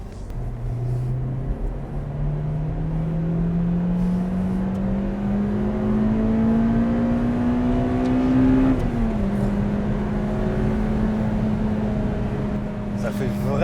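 Honda Civic Type R with a naturally aspirated 2-litre engine, no turbo, pulling steadily from inside the cabin, its tone rising smoothly before a brief dip at a gear change, loud and continuous throughout.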